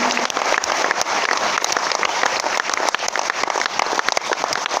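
Seminar attendees at an RCM business meeting in Bhilwara break into loud, continuous applause, a thick wash of clapping from a large crowd with sharp individual claps standing out.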